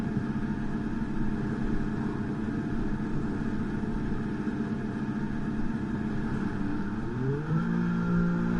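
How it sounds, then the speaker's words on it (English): Formula 1 car engine in a racing video game at Silverstone, a continuous loud high-pitched drone that holds steady, then climbs sharply in pitch as it revs up near the end, with no talk over it. "Okay, engines fired up, we're set."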